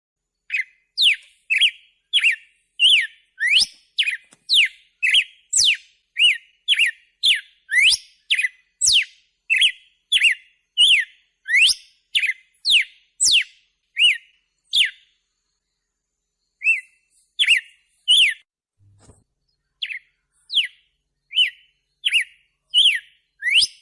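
Bird with a red head and throat, grey and black wings and a white body singing a melodious song: rapid runs of clear, bright whistled notes repeated in close succession, a brief pause, then shorter phrases resuming, loud and alone.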